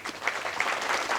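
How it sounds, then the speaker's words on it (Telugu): Brief burst of audience applause at a spiritual talk for youth, a fairly soft, even patter of many hands clapping with no voices. "మనందరం చప్పట్లు."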